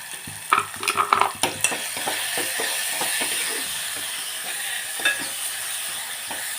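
A spoon scrapes and clatters in a pan as curry with Kashmiri chilli powder fries, loud clustered stirring strokes early on, then a steady sizzle with occasional knocks.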